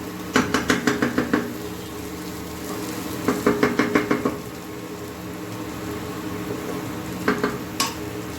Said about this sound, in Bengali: ভেজে রাখা আলুগুলো আমি দিয়ে দিলাম মশলাটার সাথে আলুগুলো একটু কষিয়ে নেবো